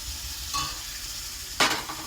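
Curd-marinated meat sizzles in a pan with a low steady frying hiss, punctuated by two brief scraping stirs, the second louder, close by and with no talking.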